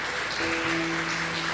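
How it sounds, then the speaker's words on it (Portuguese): A church congregation at a Father's Day communion service applauds in a steady, diffuse wash of clapping, moderately faint, with a low sustained organ or keyboard tone underneath. "Vamos aplaudir Jesus em forte."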